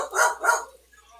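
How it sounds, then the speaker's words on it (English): A pet dog barks twice in quick succession, close and fairly loud, with a short quiet tail after the second bark in an indoor room. "my dog is barking"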